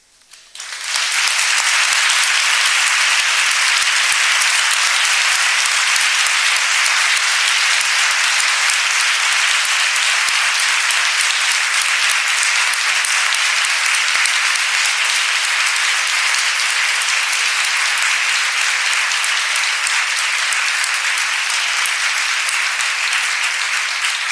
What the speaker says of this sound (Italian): l'applauso alla conclusione del suo intervento, professor Basso